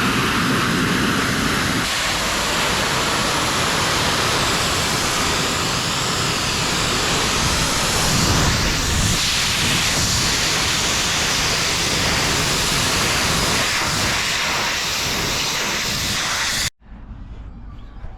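Pressure washer jet washing the gutters and channels of an old greenhouse, a loud steady hiss of spraying water running continuously close by, cutting off abruptly near the end.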